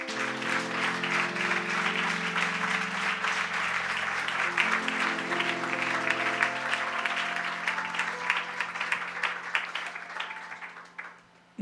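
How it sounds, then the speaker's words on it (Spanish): A church congregation applauds together, a dense sustained clapping roar with organ or keyboard chords held underneath, fading out toward the end. "Denle un aplauso al Señor."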